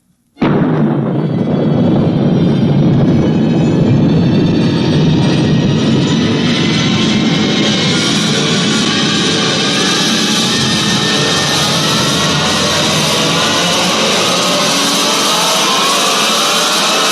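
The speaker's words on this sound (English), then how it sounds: "countdown for blast-off. X minus 5, 4, 3, 2, X minus 1," A rocket blast-off effect for a 1956 science-fiction radio drama bursts in abruptly, then holds as a loud, sustained roaring rush that brightens into a hissing thunder and carries on alone for many seconds.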